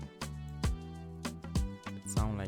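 Saxophone and brass ensemble patch from the Purity plugin in FL Studio, playing short punchy stabs with a swelling attack, about five hits over a sustained low pad, moderately quiet with a touch of reverb.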